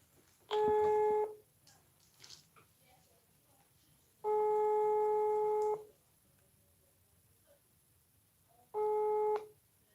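A telephone line gives three long steady busy-signal tone bursts separated by quiet gaps, clear and close on a call that fails to connect, with a few faint soft background noises between tones.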